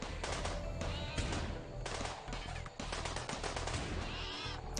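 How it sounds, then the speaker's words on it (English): Dense, continuous gunfire from colonists and automated turrets fighting in RimWorld, rapid bursts and overlapping shots forming a loud, unbroken barrage. "There we go, we got people shooting already. There we go, and the turrets are going."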